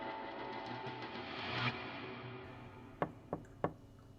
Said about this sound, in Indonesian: dia mendengar ada suara ketukan dari dinding